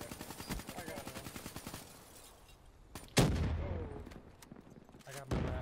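Rapid automatic gunfire from the video game Call of Duty: Black Ops 3, a steady rattle of shots in the first half, then sharper bursts and a loud blast, with some game sounds layered in.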